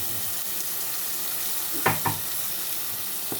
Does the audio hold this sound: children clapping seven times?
no